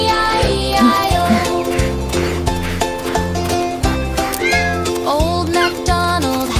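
Cartoon cat meows in an Old MacDonald Had a Farm nursery rhyme song, repeated bright meows, close and loud, over a bouncy bass and melody backing track.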